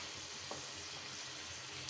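Meat for a chicken curry fries in a pan with a continuous close, dense sizzle and faint stirring movement, no voices.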